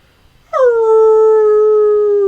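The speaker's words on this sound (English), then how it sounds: "And you hear another howl. It sounds slightly different." A wolf or dog near a quarry lets out a long, steady howl that starts abruptly after a brief quiet moment and holds a loud, even pitch to the end, with no one talking.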